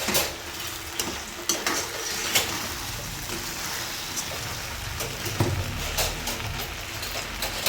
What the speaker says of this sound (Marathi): आता हे सर्व परतून घेऊया